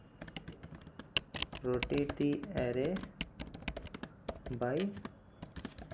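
Fingers type code on a computer keyboard in quick, close, irregular bursts of clicky keystrokes, with someone talking over the typing for much of the time.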